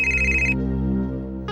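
A telephone ringtone chimes for an incoming call in a quiet indoor scene of a crime drama, ringing loudly for about half a second, pausing, then starting again over a low steady hum.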